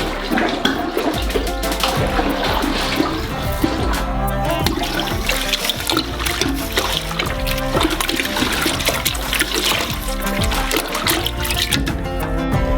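Orange juice with sugar and flavoring is churned in a large container for a giant donut, a loud, dense and continuous sloshing and splashing of liquid that runs throughout without pause.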